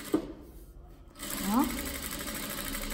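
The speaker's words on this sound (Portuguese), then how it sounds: "vou fazer a dobradinha já costurando, dobrando e costurando." Stitching a hem on a child's dress, a sewing machine starts up after a short lull and runs in a steady, close whir, with someone speaking briefly over it.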